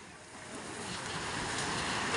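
Ocean waves wash and surge around a fishing boat at sea, a loud, steady broadband rush of surf mixed with wind noise, close to the microphone and without talk.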